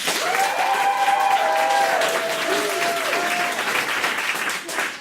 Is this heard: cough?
no